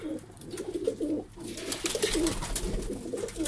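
A pigeon coos nearby in a repeated, soft rolling rhythm of low throaty calls, steady throughout against faint background hiss, with no talking.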